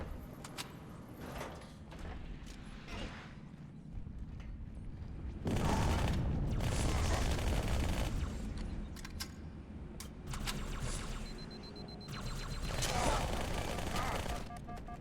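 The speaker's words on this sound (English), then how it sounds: "Dual SMGs wrecks them pretty good." Dual SMGs firing in Halo 2, with rapid bursts of automatic gunfire that swell loud in long stretches, mixed with clanks and other game noise, with no one talking.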